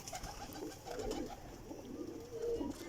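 Sebe wala pigeons coo softly and continuously nearby, a low, rolling murmur with faint background noise and no talking.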